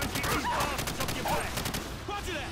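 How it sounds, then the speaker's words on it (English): Call of Duty 4: Modern Warfare gunfire, rapid bursts of repeated shots layered over game sounds, with a voice talking over the action. "Shoot them. I am shooting them."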